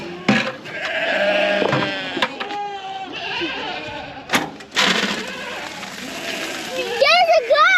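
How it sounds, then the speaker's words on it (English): A goat bleats repeatedly and loudly nearby in wavering cries, with an especially strong, quivering call at the end. People talk and shout around it. "There's a goat!"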